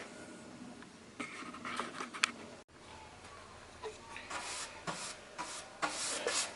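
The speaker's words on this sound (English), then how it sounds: "Brushing on the last little bit of our first coat" A brush spreads polyurethane finish over old, dried-out door wood being made into a headboard, with close, soft, scratchy strokes that rise and fall in uneven passes and no voices.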